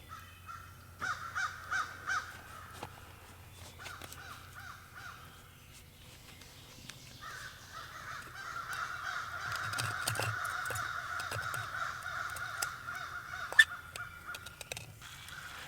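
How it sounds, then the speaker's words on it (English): Crows caw loudly and repeatedly at a wooded campsite, harsh calls coming in clusters and overlapping, with some near and some farther off, while low rumbling background noise runs underneath. "Man, them crows are loud."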